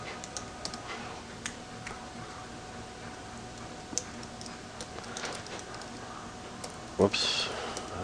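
Sparse, fairly quiet clicks of typing on a computer keyboard, with a brief louder burst near the end that may be a voice.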